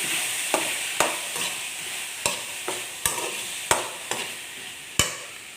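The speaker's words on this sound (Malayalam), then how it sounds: "തീ കുറച്ചിട്ട് നമുക്കൊന്ന് ഇളക്കാൻ ഇളക്കാമെന്ന്" Dried prawn theeyal is stirred while frying in a pan over low heat, a soft continuous sizzle broken by about ten sharp scrapes and knocks of the spoon against the pan at an uneven rhythm.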